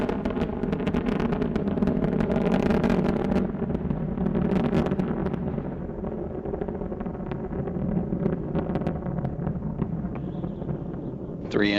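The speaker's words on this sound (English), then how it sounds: "Three engines now throttling down as Endeavour passes through the area of maximum dynamic pressure on the vehicle in the lower atmosphere." The Space Shuttle Endeavour's three main engines roar during its final launch in May 2011, a continuous, gusty rumble that holds steady for several seconds.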